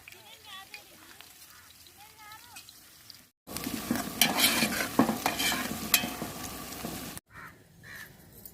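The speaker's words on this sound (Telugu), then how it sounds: "నూనె వేడైంది చికెన్ కర్రీ వండనీకి అనమాట ఇది ఉల్లిగడ్డలు వేసి ఫ్రై చేయాలి ఇప్పుడు" Onions sizzle and crackle in hot oil for a chicken curry, a loud dense frying burst in the middle with stirring scrapes, bracketed by quieter background talk.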